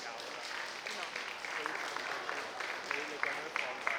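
Audience applause for a contestant at a high school Chinese storytelling and speech competition, a dense, steady patter of many hands clapping at moderate distance, with some voices mixed in.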